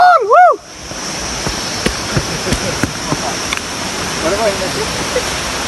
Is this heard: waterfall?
yes